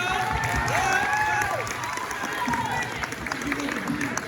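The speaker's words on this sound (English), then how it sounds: "Give yourselves a round of applause for being such a great audience." A live audience at a poetry and K-pop showcase applauds and cheers, with steady, loud clapping mixed with whoops and shouted voices filling the whole stretch.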